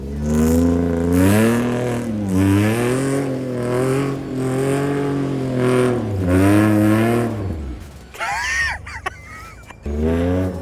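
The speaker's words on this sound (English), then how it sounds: "gonna be taking the JK into the mud, so it's not gonna be me driving" A Jeep Wrangler JK revs hard and loud as it drives off-road into mud, its engine note rising and falling in long surges for about eight seconds before cutting away to quieter outdoor sounds.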